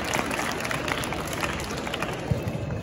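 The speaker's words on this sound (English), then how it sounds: "Clap it up." A crowd at a youth athletic combine awards gathering in Delaware claps steadily, a dense broadband patter of many hands that holds at an even level throughout, fairly close.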